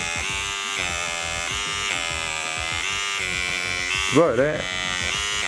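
A small electric blackhead and pimple cleaning device, bought from China, buzzes steadily as it is tried on an arm, with a brief pitch wobble near the end while someone talks over it.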